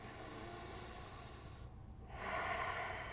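Deep breaths drawn through the nose during a yoga pose, a slow hissing exhale that fades, a short quiet gap, then a stronger inhale, all close and soft.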